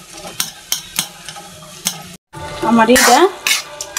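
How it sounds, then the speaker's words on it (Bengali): Boiled taro stems are mashed and mixed by hand for a Bengali bharta, with rhythmic squelching and scraping strokes, a brief silence, then a denser burst of mashing while a voice speaks briefly. "কচুর ডাটাটি সিদ্ধ হয়ে গেছে। এখন মনের যত রাগ আছে তত রাগ এটার সাথে মিলাই"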